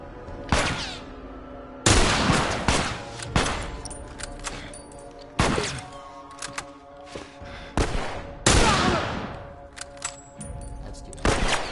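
Rifle shots ring out in The Last of Us survival gameplay, several sharp, loud cracks spaced a second or two apart, each trailing off with a ringing echo over a faint ambient hum.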